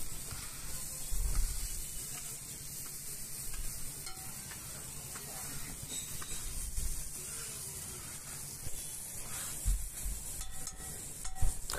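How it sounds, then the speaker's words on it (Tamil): Chopped okra sautéing in a pan gives a soft, continuous sizzle and hiss, with faint intermittent stirring scrapes throughout. "நம்ம கல்லை போட்டு இப்போ நல்லா வதக்கிக்கலாம்."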